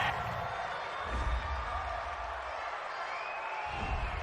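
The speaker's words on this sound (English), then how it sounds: "this crowd does not like that call. Understandable reaction from them." A stadium crowd at an NFL game between the Detroit Lions and Oakland Raiders reacts with displeasure to a roughing-the-passer penalty, a broad, sustained roar of disapproval that holds steady throughout without a break.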